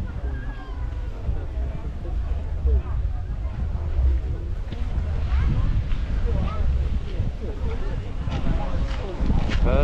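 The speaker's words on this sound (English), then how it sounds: "It's getting really windy." Strong wind roars and buffets the microphone at an outdoor classic car show in Essex, a heavy, constant low rumble that never lets up.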